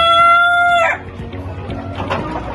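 A rooster in a chicken coop lets out a loud, close crow that breaks off after about a second, followed by scattered clucks and shuffling from the hens around it.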